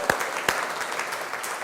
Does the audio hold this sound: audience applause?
yes